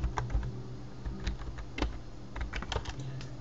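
Keys clack on a computer keyboard in an irregular stream of close, light taps as a password is typed.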